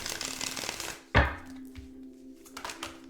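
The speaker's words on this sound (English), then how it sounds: "let's get some tarot cards out for Taurus here. I'm gonna just do one big shuffle." A deck of tarot cards gets one big shuffle: a soft, dense rustle for about a second, then a single close thunk as the deck settles, followed by quiet room tone.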